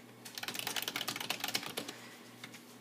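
Fingers type on a computer keyboard in a quick, close burst of clicking keystrokes, fading to a few scattered taps at the end.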